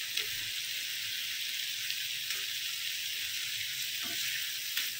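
Potatoes fry with a cooked spice paste in a pan for an aloo-potol curry, a dense, even hiss of sizzling oil throughout with a couple of faint stirring taps, close and steady.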